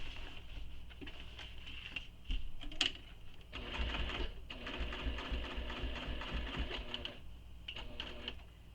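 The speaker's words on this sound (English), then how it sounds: "So I always go backwards a few stitches here, just so that my presser foot clears my hardware." A sewing machine backstitches near hardware on a bowler bag, with bursts of rapid needle clatter in short runs separated by pauses and small clicks, fairly quiet and close.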